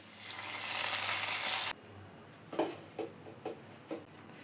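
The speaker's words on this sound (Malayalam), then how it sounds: "ഇനി ഇത് കറിയിലോട്ട് ഒഴിച്ചു കൊടുക്കാം." Hot oil with fried dried red chillies and curry leaves hisses in a loud burst as the tempering is poured into chicken kurma, then cuts off abruptly, followed by a few soft stirring clinks.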